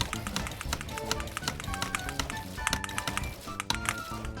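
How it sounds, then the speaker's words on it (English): Rapid, uneven clicks of a mechanical gaming keyboard during Fortnite play, keys pressed in quick bursts and close up over a low background hum. "You guys can hear a little bit of the action of the keyboard"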